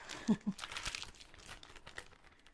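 Plastic wrapping sheet being cut into strips for lining a basket planter, giving a couple of sharp crinkling snips followed by softer rustling and crackling, close and fairly quiet.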